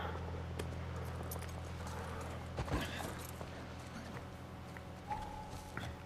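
A horse's hooves clip-clop at a slow, steady pace in the distance in The Last of Us Part I, fairly faint beneath a constant low ambient hum, with a couple of louder thuds.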